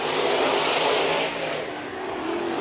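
A topless modified race car at Bakersfield Speedway, a loud engine roaring and revving close by during a spin-out, the drone dipping slightly near the end, with no voices.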